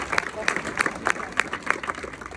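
An audience at a spiritual gathering claps in a quick, even rhythm, a fairly soft burst of applause that holds steady for a couple of seconds.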